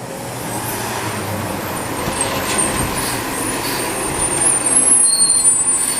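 A recycling truck passes along Rue Alexandre de Sève in Montreal's Ville-Marie borough: a broad, steady engine and road rumble that swells louder toward the end, with no talking.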